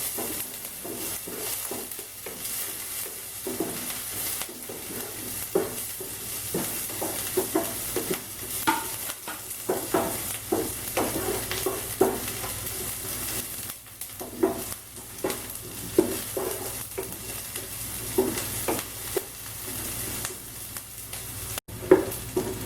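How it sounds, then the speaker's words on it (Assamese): Chopped onions frying in a kadai with dried chillies until browned, a steady close sizzle broken by frequent scraping stirs of the spatula, with no talk. "এতিয়া পিঁয়াজখিনি ব্ৰাউন হোৱাকৈ ভাজি ল'ম"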